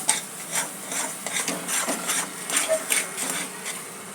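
Cardamom and dry ginger powder being mixed into a thick date halwa, heard as steady close scraping and rubbing strokes of a spoon against the pan, quiet and continuous with a slightly gritty texture.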